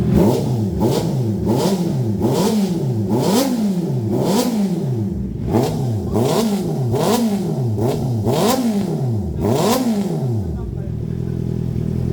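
Honda CB650R inline-four motorcycle with an aftermarket full exhaust (IXIL, Evotech) revs repeatedly to around 6,000 rpm, about a dozen sharp rising and falling blips in steady rhythm, loud and close, before settling to idle.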